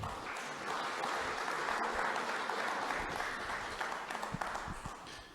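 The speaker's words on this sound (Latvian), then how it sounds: "Ar aplausiem sagaidīsim Ivaru." An audience applauds to welcome a speaker at the opening of a wood restoration workshop in Riga: a full, sustained wash of many hands clapping, steady and fairly distant, thinning into a few separate claps near the end.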